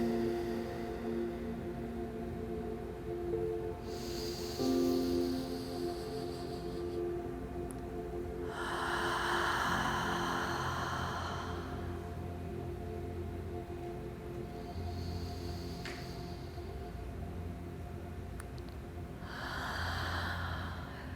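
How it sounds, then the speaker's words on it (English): Slow, relaxed breaths repeat in a calm rhythm, each soft airy inhale followed by a longer exhale, close and fairly quiet over a low background hum. "Renewing inhales, relaxing exhales."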